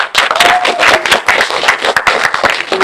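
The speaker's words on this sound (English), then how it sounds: "You'll be greeted by a nice round of applause." A live audience at a magic show claps for a volunteer coming on stage, a loud close burst of many hands clapping at once for a few seconds, with a voice faintly under it.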